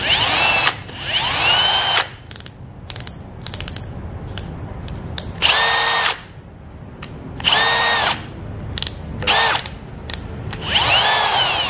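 A power drill runs at slow speed in short bursts, whirring for a second or two before stopping, then starting again, with quiet gaps between the loud runs and clicks.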